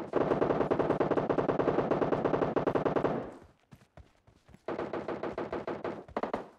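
Rapid automatic gunfire in the PUBG battle game: a dense, loud burst of about three seconds, a scatter of single shots, then another sustained burst, with no talking.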